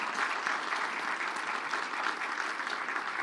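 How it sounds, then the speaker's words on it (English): Audience applause for panelists at the close of a community forum on fentanyl, a steady dense clapping that holds at even loudness throughout, with no voices over it. "can we give one last round of applause to all our panelists here?"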